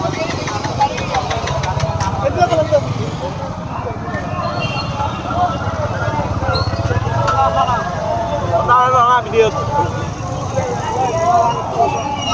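Many vehicles, including motorbikes and pickups, idle and rumble steadily at a Jashne Julus religious procession in Haldia-Dabua, under constant crowd babble and nearby voices.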